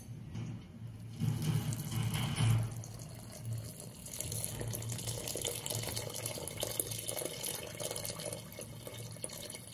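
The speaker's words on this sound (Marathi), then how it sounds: "आता यामध्ये मी गुळाचं पाणी ओतणार आहे" Jaggery water pours steadily into a pot of cracked-wheat lapshi with a low gurgling splash, strongest early on, then continues as a softer running trickle.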